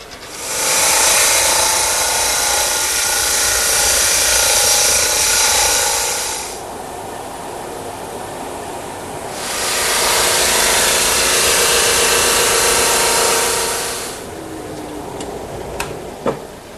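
A woodworking planer planes wood surfaces in two long, loud passes, each a harsh high whine that starts and stops abruptly, separated by the lower hum of the machine idling between passes.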